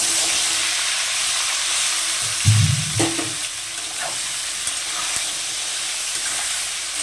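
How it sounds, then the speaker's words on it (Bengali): Eggplant fries in a pan with a steady, close sizzling hiss. A louder crackling spurt rises briefly midway, then settles back into even frying. "এবার আমি বেগুনটাকে ভেজে নেব।"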